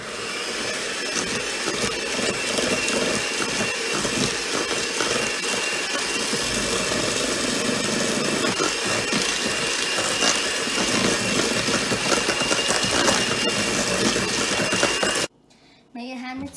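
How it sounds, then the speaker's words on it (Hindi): Steady whirring motor hum of an electric hand mixer running continuously as it mixes egg into chocolate cookie dough, cutting off abruptly near the end. "आइए मैं हैंड मिक्सर से मिक्स कर सकती हूँ।"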